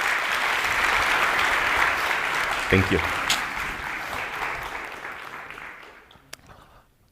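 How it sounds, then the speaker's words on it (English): A conference audience applauds a keynote speaker at a games industry event, with steady broadband clapping that fades out over several seconds while a voice briefly says thanks partway through. "A big round of applause for Mr."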